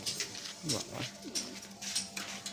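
A Kalasabuj pigeon coos in a few soft, close bursts of low warbling, with faint background sounds between the calls.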